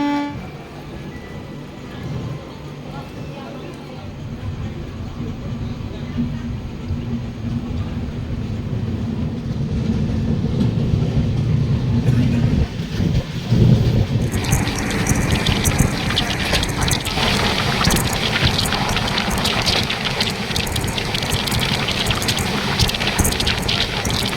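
The Rupashi Bangla Express runs from Santragachi toward Purulia, its rumble and wheel clatter loud and close. The noise grows heavier and brighter partway through, with a possible horn toot.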